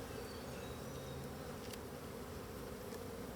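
A faint, steady buzzing of honeybees around an opened hive hums continuously at low level, a soft insect drone with no voices.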